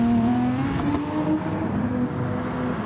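Race cars on soft compound tyres lapping Fuji in a racing video game, engines droning steadily and loud with a sustained mid-pitched whine that holds through the stretch, no voices over it.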